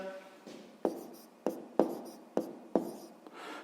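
Pen or pencil writing numbers by hand during a sixth-grade maths exercise on factoring, giving a series of about five short scratchy strokes, each starting with a sharp tap and fading, fairly close and quiet.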